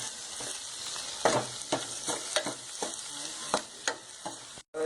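Curry base with tomato sizzles steadily in oil in a pan for chicken curry, with a spoon scraping and stirring in irregular soft strokes over the continuous frying hiss.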